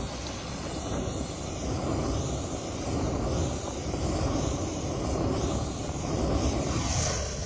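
A gas torch flame roars steadily and close against fake snow, a loud rushing blast with slight swells in intensity, no one speaking over it.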